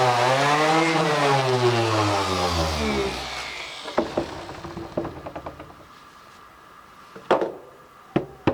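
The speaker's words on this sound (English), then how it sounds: "now we're going to go ahead and sand and see what things look like." A power sander grinds loudly across a wooden tabletop, its whine gradually dropping and fading after a few seconds, then giving way to scattered knocks and clunks.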